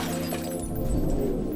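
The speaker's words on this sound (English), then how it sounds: "I then smashed the front driver's window with a police baton" A car's front driver's window is smashed with a police baton, a sharp crash of breaking glass over a steady low rumble of background noise, close and abrupt.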